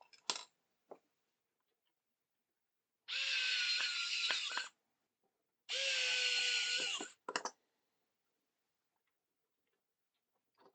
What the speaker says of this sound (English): let's put a screw in here